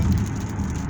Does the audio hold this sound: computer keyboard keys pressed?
no